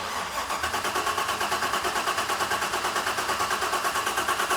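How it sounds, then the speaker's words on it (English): The engine of a Chevy Square Body truck cranking steadily, the starter churning in an even, rapid pulsing rhythm throughout without catching, close and loud. "Kevin, can you please crank this"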